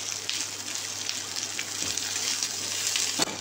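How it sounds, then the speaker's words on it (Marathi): Onions frying in oil in a pan, a steady bright hiss of sizzling throughout, close and unbroken, with a faint stir or tap near the end. "थोडं तेल घालून आपण छान परतून घेऊ।"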